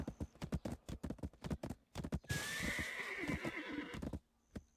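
Horse in the online game Black Desert Online whinnies loudly as it is mounted, with clip-clop hoofbeats before and after the neigh, close and clear.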